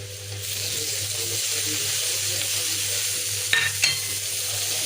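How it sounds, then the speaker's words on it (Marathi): Tomato sautéing in hot oil with garam masala, turmeric and chutney for toor dal amti, a steady close sizzle with a couple of sharp scraping stirs near the end. "तेव्हा थोडा लाल झाला त्यात टाकूया टमाटर"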